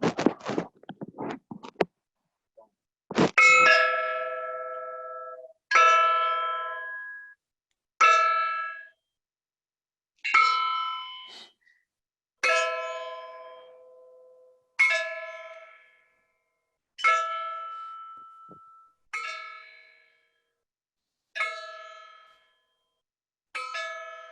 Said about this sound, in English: bells were rung throughout the world